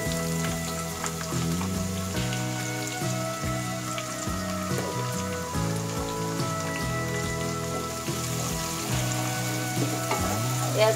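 A cup of sliced onions fry in hot oil toward brown for beef biryani, a loud dense crackling sizzle with scattered pops and occasional stirring knocks, close and continuous.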